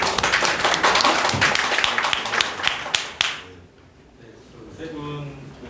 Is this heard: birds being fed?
no